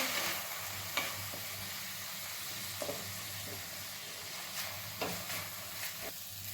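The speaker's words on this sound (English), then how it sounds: "I always put the masala with tomato and fry it because then it will not burn." Masala spices fry together with tomato in a pan, making a quiet, steady hiss with a few light taps of stirring now and then.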